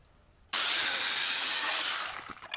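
A power tool cuts through the last section of a welded metal frame: a sudden loud, harsh hissing roar bursts in after a quiet start, holds steady, then tapers off with a few rattles.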